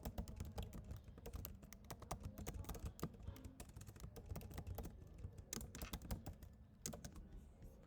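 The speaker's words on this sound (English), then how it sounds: "Let's say we want to type" Steady typing on a computer keyboard in a Python development environment: a continuous run of close, crisp key clicks with uneven rhythm and a few louder taps, with no one talking.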